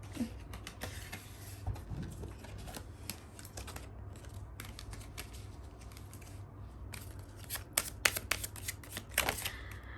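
Tarot cards shuffled and spilling across a table, giving quiet papery riffles and sharp flicks and slaps in irregular bursts, louder toward the end, with no talk.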